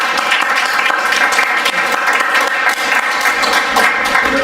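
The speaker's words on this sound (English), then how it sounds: "3, 2, 1, clap for me" A crowd at a datathon kick-off event claps on cue, a loud, sustained wash of many hands clapping evenly throughout, with no talking over it.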